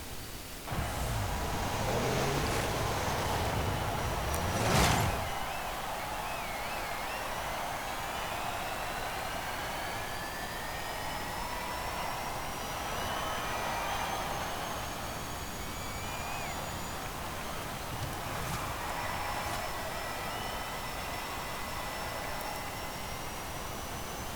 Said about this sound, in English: let's hear what this car sounds like, and then we'll talk about it some more.